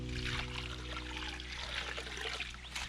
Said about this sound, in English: I'm just going to get some water, chuck it in the hole